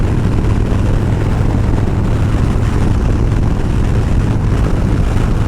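A Dyna motorcycle cruising on an October morning ride in Arizona, its engine drone blended with heavy, steady wind roar buffeting the microphone, loud and unbroken throughout.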